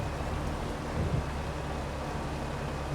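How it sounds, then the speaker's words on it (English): Rain falling in Farming Simulator 25 during a winter farming session, a steady soft wash of patter with a low rumbling bed, continuous and even, with no voice over it. "That rain sound on this map, though, is a little weird."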